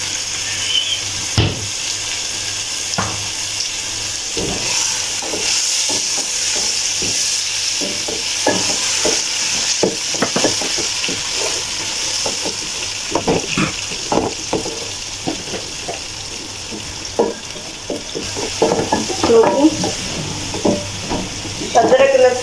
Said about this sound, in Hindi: अदरक लहसुन का पेस्ट भी देखो फ्राई हो गया।